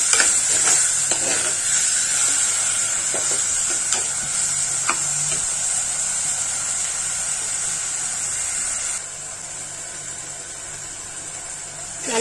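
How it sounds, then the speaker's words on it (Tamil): Ingredients sauté in oil in a pan with a steady, bright sizzle and the intermittent scrape and clink of stirring. The sizzle eases slightly toward the end, and no one speaks. "நம்ம நல்லா வதக்கி விட்டுக்கலாங்க."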